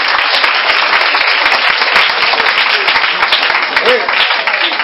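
A church crusade audience applauding and cheering, dense loud clapping and crowd noise sustained throughout, with a voice faintly under it.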